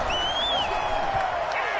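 Crowd noise at a virtual 49ers vs. Cowboys game in Madden 21, a steady dense roar of applause and cheering filling the stadium, with a whistle-like tone on top.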